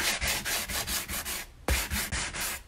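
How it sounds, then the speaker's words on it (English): Painted wood on a wire heart photo holder is sanded by hand in quick back-and-forth strokes, a close, rhythmic scratchy rasp with a short pause before the strokes resume. "sanding it after the paint will take off a lot more paint"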